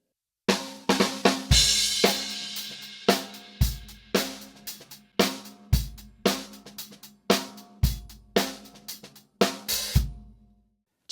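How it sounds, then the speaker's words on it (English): Drum kit groove with bass drum, backbeat snare and extra light ghost-like texture notes on the snare, played alone at a steady tempo with ringing cymbal at the opening. "Sometimes what I will do is add a few other texture notes on the snare drum."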